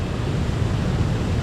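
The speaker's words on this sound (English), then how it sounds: "you could get like a big wave" Ocean waves wash against the rocks at Aruba's Natural Bridge, a loud steady surf roar with wind noise and no voices.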